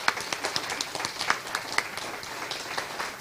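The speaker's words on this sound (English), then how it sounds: "we'd love to get a picture and a big round of applause" Applause from a small audience at a weekly meeting, with distinct individual claps spread over a moderate wash of clapping that carries on evenly throughout, without any talk.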